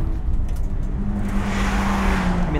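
Subaru BRZ cornering on Isle of Man roads, a loud close engine roar with a rising tone and some tire noise as it sweeps through a bend, no talking over it.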